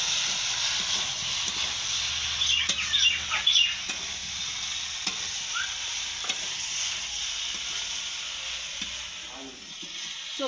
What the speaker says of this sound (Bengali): সবজি সব মশলার সঙ্গে ভালোভাবে কষিয়ে নিয়েছি।